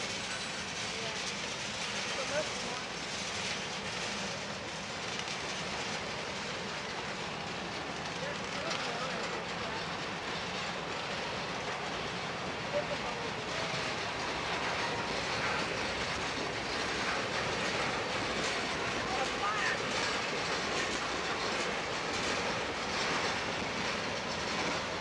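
A CSX freight train of cars loaded with scrap metal rolls past, a steady dense rumble and rattle of wheels and cars lasting the whole time, with someone talking over it.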